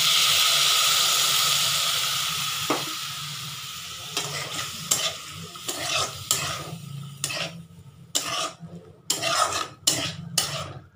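Water poured into a hot frying pan of aloo dum sends up a loud, sharp hiss that slowly fades, followed by repeated clinks and scrapes of a spoon stirring the pan.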